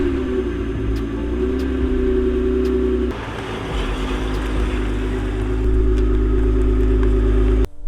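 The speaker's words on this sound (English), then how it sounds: "At least this way you get to hear a cold start" An Acura TL idles after a cold start on a cold, windy day, a steady low engine drone with wind rumble, rising slightly in the last seconds before cutting off abruptly.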